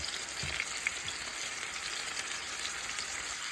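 Boiled, softened Brussels sprouts sizzle steadily in a hot pan as they are laid in one by one, a dense, even frying hiss with a couple of soft thumps early on, close and continuous with no talking.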